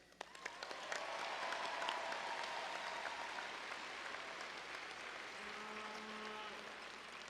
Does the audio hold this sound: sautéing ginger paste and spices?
no